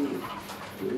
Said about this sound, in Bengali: অসাধারণ আরেক জোড়া গুল্লা কবুতর।